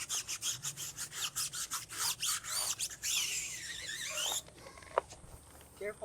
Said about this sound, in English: I like to go around the wheel real carefully, and I like to really scrub the treads.